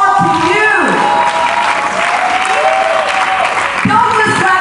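Audience at a TSS Edge Series talk in Lagos, Nigeria, clapping in a steady wash while a loud voice speaks over it.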